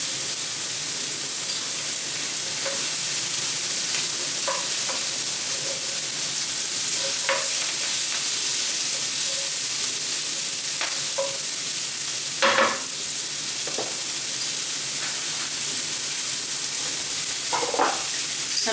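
Onions fry in a pan with a steady broadband sizzle, broken by scattered scrapes and clicks of stirring, loudest around the middle and near the end.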